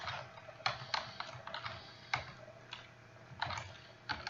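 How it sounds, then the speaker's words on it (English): Soft typing on a computer keyboard during Java programming, irregular clusters of quiet key clicks over a faint background hiss, with no talk. "If I can type."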